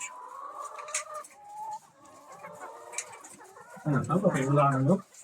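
German Lohmann laying hens cluck and call in a barn, with several close, choppy clucks and a louder burst of cackling near the end; someone talks briefly between them.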